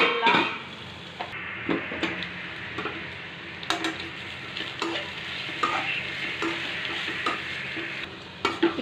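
Carrot and radish cook in a pan while being stirred continuously, with a steady soft sizzle and frequent scraping taps of a utensil against the pan, close up.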